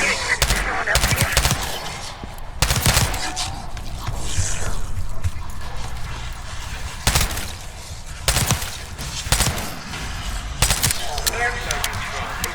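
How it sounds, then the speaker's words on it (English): Gunfire in the Call of Duty: Black Ops 6 campaign, with sharp shots and short bursts cracking at irregular intervals over a tense background while characters talk. "You hearing gunfire? Yeah. Sounds like it's coming from one of the fourth floors."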